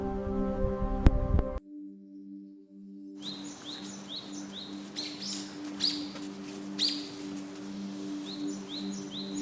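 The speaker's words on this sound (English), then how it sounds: "Nature's most exquisite aviators, the hummingbird." A hummingbird makes quick, high chirps in repeated bursts after a brief held tonal opening, set against a soft, continuous background.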